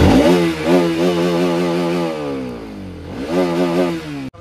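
A second-hand motorcycle fires up and revs loudly nearby, two rising throttle blips with a dip to idle between, ending with a sudden cut.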